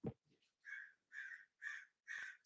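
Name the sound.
crows cawing outside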